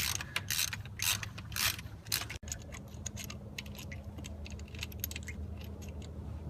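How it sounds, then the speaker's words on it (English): A hand ratchet clicks in quick bursts while removing the auxiliary idler pulley on a 2003 Ford Mustang SVT Cobra with a 4.6L engine; sharp metallic pawl clicks come close and loud at first, then settle into lighter, irregular tool rattles. "for this one you have to take the pulley off"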